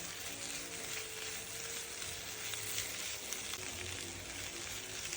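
Drumstick poriyal sizzles steadily in a pan, a close, even hiss of frying that holds without pause throughout.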